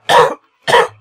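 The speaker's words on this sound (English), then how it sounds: "No coughing!" Two sharp, loud coughs come close together, each a short harsh burst, separated by a brief silence.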